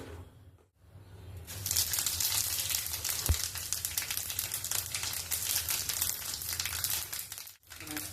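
Panch phoron spices hit hot oil in a kadai, bursting into a sudden loud, crackling sizzle that continues densely with popping seeds before cutting off briefly near the end.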